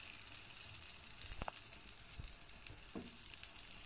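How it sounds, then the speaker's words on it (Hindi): Butter melts in a hot pan for suji and maida halwa, giving a soft, faint continuous sizzle with a couple of brief utensil knocks and no talking. "मक्खन को मेल्ट कर लेंगे, अच्छे से ये मेल्ट हो जाए"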